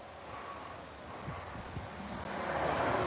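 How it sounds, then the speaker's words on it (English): Breeze blowing outdoors on a sunny day where a flag flaps, heard as a steady broadband wind rush on the microphone, gusting a little stronger toward the end, with no voices. "It's nice and breezy here too."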